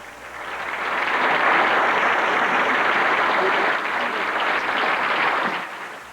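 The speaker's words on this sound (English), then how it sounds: "the crowd rewarded the effort with a warm ovation" A theatre audience gives student performers a warm, sustained ovation: dense, steady applause swells in, holds for several seconds and then tapers off.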